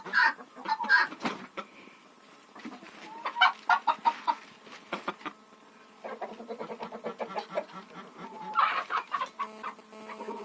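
Hens cluck in a chicken coop with nesting boxes, a close chorus of repeated clucks and occasional higher squawks in irregular bursts, with no talk.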